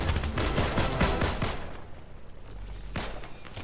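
Dense, rapid gunfire from a BGMI-style mobile shooter game: overlapping loud bursts of shots, heaviest at first, then thinning out before another flurry near the end.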